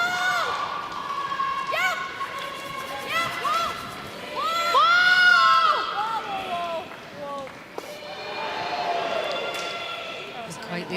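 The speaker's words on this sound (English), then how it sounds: "the groan from the crowd" Crowd noise from Danish spectators at a women's curling bronze match at the 2015 European Championships, a swelling groan and murmur under a commentator's talk, rising in the middle before settling.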